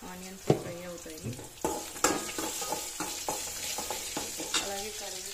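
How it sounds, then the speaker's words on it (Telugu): Onions fry in a pan for ragi semiya upma, a soft sizzle under repeated sharp scrapes and clinks of a spoon stirring against the metal. "ఆనియన్స్ ఫ్రై అవుతాయి."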